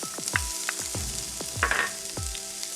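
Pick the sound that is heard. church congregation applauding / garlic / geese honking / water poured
garlic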